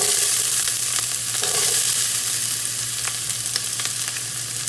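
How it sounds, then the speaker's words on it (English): Onions and garlic fry in olive oil, a steady close sizzle with a low hum beneath and occasional faint clicks of stirring, no talking. "So start our onions and garlic."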